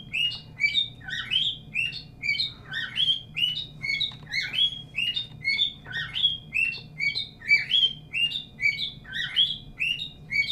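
An indoor pet bird chirps and tweets in rapid, continuous bursts, loud and close, over a low steady room hum, with no talking.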